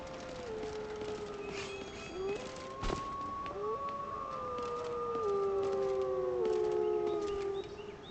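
A dog or wolf howls in a video game, with long wavering tones that rise and fall over a steady background hum, sustained through most of the stretch at moderate loudness with no talk.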